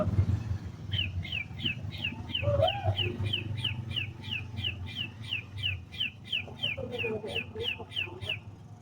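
A voice imitates baby chicken chirps, a long rapid series of high, even peeps with a few faint background sounds.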